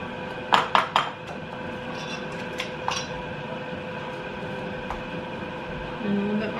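A spoon clinks and scrapes against a bowl while sugar scrub ingredients are mixed, with a quick cluster of bright taps, a few scattered knocks afterward and a low background hum.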